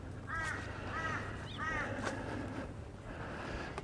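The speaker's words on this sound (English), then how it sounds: "a couple of crows" A crow calls three times in steady succession, fairly close and clear over soft outdoor ambience in a conservation park, followed by quieter rustling and distant sounds.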